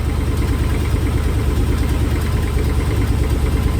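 A carbureted LS V8 running on a factory PCM with an eBay harness and no MSD ignition idles steadily and close by, a low, even rumble with a constant pulsing beat and no revving throughout.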